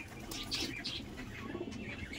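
Giribaj pigeons, a domestic breed, cooing and chirping in short soft bursts nearby, with faint rustling and a brief flutter of wings over a low background hum.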